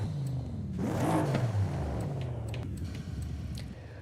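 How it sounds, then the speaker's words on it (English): Mercedes E63S engine in Forza Horizon 5 revs hard, its pitch climbing and falling across a few seconds as a loud whirring roar, then settling into a lower rumbling drone, with no one talking. "So the E63S engine revs higher than the regular E63 engine in this truck."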